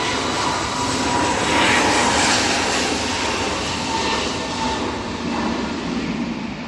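An easyJet airliner takes off at Manchester Airport on a windy day, its jet engines giving a loud, broad, continuous roar that swells and slowly recedes, with no talk over it.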